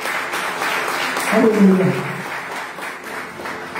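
A church congregation applauding the Lord at a revivalist service, a swell of clapping from the crowd that rises and fades, with a voice calling out over it.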